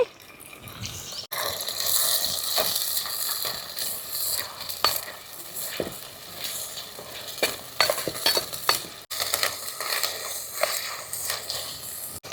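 Ground masala paste for Andhra-style fish curry sizzles and fries in a pan, a steady crackling hiss with scraping stir strokes throughout, loud and close with brief breaks.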